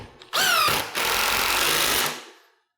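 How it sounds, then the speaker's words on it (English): A power drill drives a screw into a clamped cabinet door joint with a loud, close whine that rises as it spins up, holds steady, then winds down. "And all I have to worry about is driving the screw."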